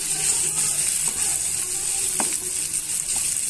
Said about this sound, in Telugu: ఉల్లిపాయ ముక్కలు పచ్చిమిరపకాయ ముక్కలు బాగా వేగిపోయాయండి